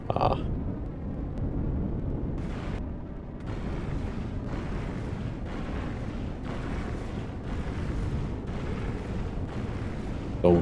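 Flak cannon fire destroying drones in the video game Empyrion Galactic Survival, a run of repeated heavy booming bursts in a rough steady rhythm, rumbling and muffled, with some talk mixed in.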